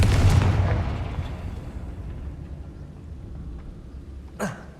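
A Confringo explosion spell goes off in Hogwarts Legacy: one loud, low boom at the start that rolls into a long fading rumble, then a short bright whoosh near the end.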